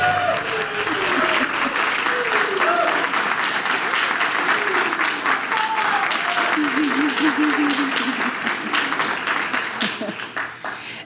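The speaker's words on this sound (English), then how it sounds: "Round of applause, ladies and gentlemen." Sustained audience applause fills a school board meeting room, loud and steady for about eleven seconds, with voices and chatter audible underneath the clapping.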